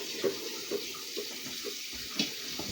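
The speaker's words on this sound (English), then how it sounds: "I got water running in my pan" Tap water runs steadily into a pan while baking Christmas cookies, a soft continuous splashing stream with a few brief clinks from the pan.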